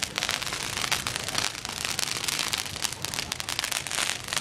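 Small fireworks and firecrackers on the Fourth of July, set off around a crowded parking lot, keep up a dense, steady crackle with sharp pops and fizzing bursts close by, continuous and loud with no talk.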